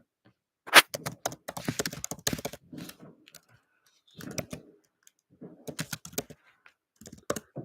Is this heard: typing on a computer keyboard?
yes